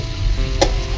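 Eggs fry in a pan with a soft, steady sizzle and one brief sharper crackle, close and on their own without talk.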